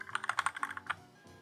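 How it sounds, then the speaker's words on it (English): Rapid clicky typing on a first mechanical keyboard, a quick burst of close, crisp keystrokes that stops after about a second. "this is like my first mechanical keyboard"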